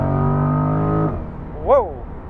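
A 2020 Chevrolet Corvette engine drones in a loud, steady low hum that drops away after about a second, followed by a brief rising and falling whoosh as the car shifts or passes.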